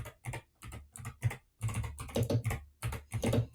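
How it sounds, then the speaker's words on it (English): Fast typing on a noisy computer keyboard, close and clear, keystrokes coming in dense bursts with brief pauses between runs, no voices over it. "Don't worry about my noisy keyboard."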